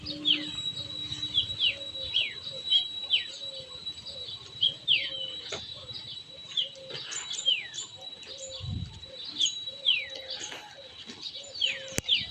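Repeated short bird chirps and tweets throughout, fairly close, with a faint steady tone and occasional soft background noise.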